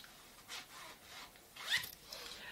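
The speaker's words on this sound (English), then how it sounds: "there's a two-way zipper." A two-way zipper on spandex swimwear is worked in short, quiet strokes, with a few brief rasping zips, the last one the sharpest, and no voices.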